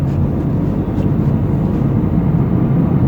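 A car accelerates during a driving lesson, giving a loud, steady engine drone and road rumble from inside the cabin that holds constant throughout without breaks.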